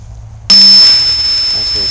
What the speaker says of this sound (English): Comes with a bell, a nice little brass bell on here.